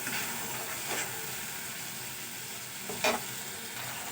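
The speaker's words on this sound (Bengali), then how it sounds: "আমি সময় নিয়ে এটাকে কষিয়ে নেব যতক্ষণ না মশলা থেকে তেল ছাড়তে শুরু করবে ততক্ষণ আমি মশলাটাকে কষাতে থাকবো" A low, continuous sizzle as spice paste fries in oil, with a faint stir near the start and a sharper scrape of the spoon about three seconds in.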